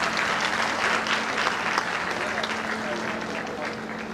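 A crowd at a public welcoming event for a guest applauds loudly and continuously, with a faint steady hum underneath and some voices in the crowd.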